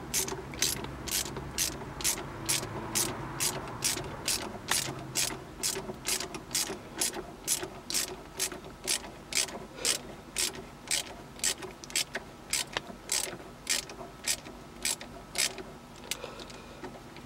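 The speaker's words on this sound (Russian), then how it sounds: "Ну и затягиваю хомут я." Ratchet tightening a hose clamp on a radiator hose of a 1996 Toyota Dyna truck, a long run of steady, evenly spaced clicking strokes, close and clear with no talk.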